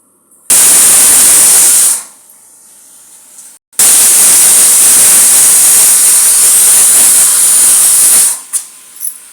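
A pressure cooker cooking sambar lets off loud, close hissing steam whistles. A short blast is followed by a pause and then a longer sustained whistle, and the steam fades with a few sputters at the end.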